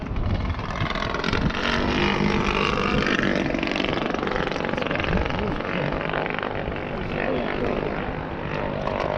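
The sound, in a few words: RC model aircraft engine idling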